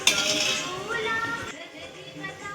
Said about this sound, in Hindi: अब इसको हम एक बर्तन में निकाल देते हैं।